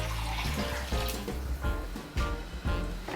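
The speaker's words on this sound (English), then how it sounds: "you take nearly 3 cups of hot chicken stock and" Hot chicken stock pours steadily into a blonde roux in a pan, a continuous close liquid rush with gurgling, bubbling pulses and slight splashes throughout, with no talking.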